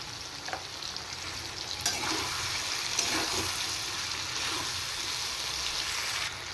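Boiled potatoes sauté in hot oil in a pan for a Bengali dish, giving a steady, close sizzle and crackle that holds at an even level throughout, with no voices.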